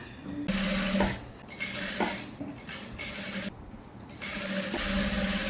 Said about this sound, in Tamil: இப்போவும் லைனிங் இப்படி எடுத்து அமுக்கடி போட்டுக்கலாம்